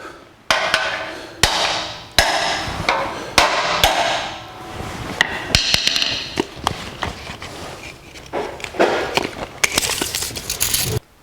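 A hammer taps a 1949 Chevrolet gasser's front axle into square, a series of sharp metallic strikes in irregular bursts, close and loud, with small knocks and shuffling between blows.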